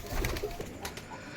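A nervous pair of Rajshahi local Giribaj flying pigeons coo softly, close by, in a short burst of low murmuring calls.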